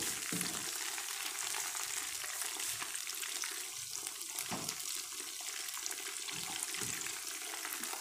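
Fish nuggets fry in hot oil with a dense, steady sizzle and crackle, punctuated by soft knocks and scrapes as the pieces are flipped in the pan.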